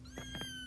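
Several kittens mewing in short high calls, three quick meows close by and fairly faint, with no talking over them.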